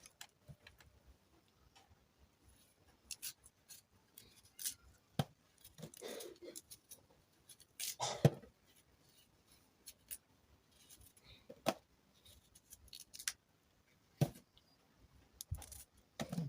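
Arrow roots peeled with a knife, faint close scraping and short ticking cuts coming in sparse irregular bursts against near silence.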